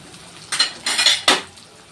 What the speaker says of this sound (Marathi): ठेवलं झाकण